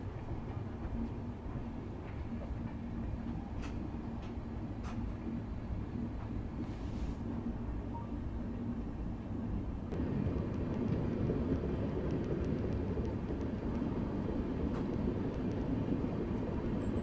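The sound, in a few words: Vande Bharat Express train approaching on the line from Agra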